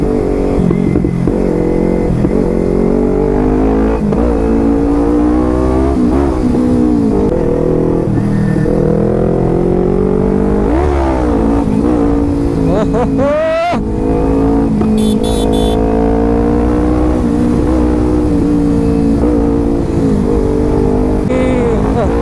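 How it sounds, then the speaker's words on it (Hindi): A scooter accelerating hard on a Mumbai road, its loud, close engine whining up and down through repeated revs for the whole stretch, with a brief dip near the middle. "थोड़ा गाड़ी को भगाता हूँ गाइस।"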